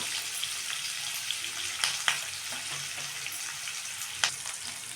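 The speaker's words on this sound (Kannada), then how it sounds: "ಇವಾಗ ಈರುಳ್ಳಿ ಸ್ವಲ್ಪ ಫ್ರೈ ಆಗಿದೆ" Onions fry in a pan for an avarekalu palya, making a quiet, continuous hiss with a few sharp crackles and light stirring taps, and no voices.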